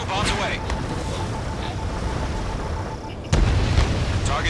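Bombs exploding on ground targets in the jet combat game Ace Combat 7, a steady low rumble of engine and battle noise broken by a heavy blast near the end, with radio voices talking over it.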